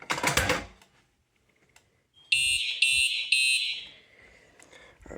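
Simplex electronic fire alarm horns sound during a system test, giving three loud, harsh pulsed blasts in quick succession that fade out, after a brief burst of noise and a near-silent pause.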